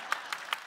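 Hand clapping in a Hindi TV serial scene, four quick, evenly spaced claps, faint and sharp.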